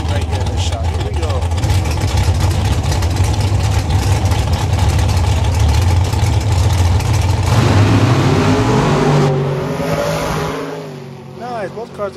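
Two bracket racing cars launch hard off the starting line at Maui Raceway Park, engines roaring loud and sustained, then pulling away and fading, with a commentator talking over the noise.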